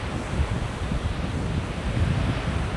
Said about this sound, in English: Pretty windy. I found the beach